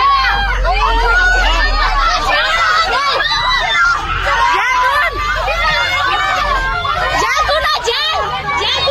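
Crowd of people shrieking and shouting in alarm as a flood wall of water surges in near the Nepal–China border, a dense, continuous mass of overlapping high-pitched cries and screams throughout, loud and close.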